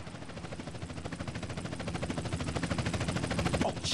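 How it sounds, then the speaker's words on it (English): Helicopter in GTA San Andreas closing in, its rapid rotor chop building steadily louder over a few seconds against a dense game soundscape, with no voices over it. "Chopper inbound!"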